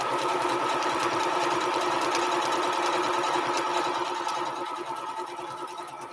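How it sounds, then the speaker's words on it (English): A sewing machine runs steadily, stitching a quarter-inch seam to join quilt strips for a Triple Irish Chain quilt, a continuous close whirring hum that fades slightly near the end, with no talking. "I'm only sewing 1/4 of an inch down, guys"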